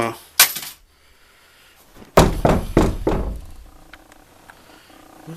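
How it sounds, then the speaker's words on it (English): A wooden door is knocked on: a single sharp rap, a pause, then a loud cluster of several knocks followed by a fading rattle, close and without talk. "Who knocked on my door?"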